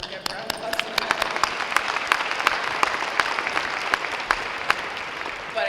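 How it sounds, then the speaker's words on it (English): Applause at a women's basketball end-of-year banquet, a dense round of clapping with sharp individual claps standing out, filling the room at steady volume from start to finish. "round of applause for that"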